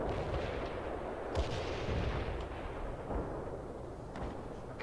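In the World in Conflict battle for Fort Teller, artillery fire booms in dense overlapping blasts and rumbles, loud and continuous with no talk.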